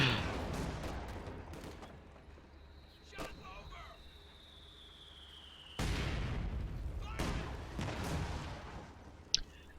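Pack howitzer shells and a Stuka bombing strike explode in the strategy game Company of Heroes 2. Several distant-sounding booming blasts arrive at uneven intervals over a low rumble, with a sharp crack near the end and a voice talking faintly.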